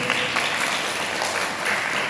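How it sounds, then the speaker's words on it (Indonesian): A room of students at an Islamic boarding school gathering claps steadily for about two seconds, a dense, even wash of many hands with no voice over it. "tepuk tangan dulu"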